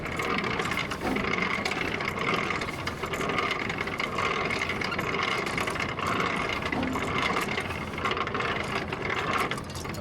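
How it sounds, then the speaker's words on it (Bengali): A trailer's landing gear being cranked up by hand during coupling to a Super B trailer, giving a steady mechanical ratcheting, grinding churn that runs continuously and fairly loud over a low idling engine hum. "এই যে ল্যান্ডিং গিয়ার, ল্যান্ডিং গিয়ার, এটাকে আমার আপ করে দিতে হবে"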